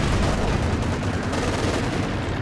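Dense gunfire in a Company of Heroes-style WWII strategy game, with a Panther tank shooting at riflemen, heard as a continuous loud crackle of overlapping shots and battle noise without talk.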